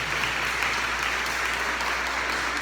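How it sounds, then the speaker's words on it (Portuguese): Congregation applauding in a church, a steady dense wash of clapping that fills the whole stretch at an even level, with no break or swell. "Aplauda a palavra do Senhor."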